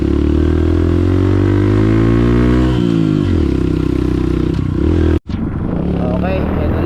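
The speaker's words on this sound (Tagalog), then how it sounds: "Huwag mo tagilid yung motor mo." Motorcycle climbing an uphill dirt trail after a storm, engine revving loud and close throughout with clattering, a brief dropout near the end, and people talking over it.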